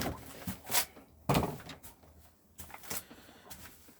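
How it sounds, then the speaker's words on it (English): A 2004 Bailey Pageant Majestic caravan fridge door is handled with a few quick clunks and clicks, spaced irregularly and close by in a quiet interior. "To operate the fridge, which is what we're going to come to first, open the door up"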